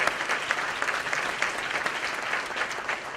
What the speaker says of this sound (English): Let's give a round of applause for your incredible leadership on this issue.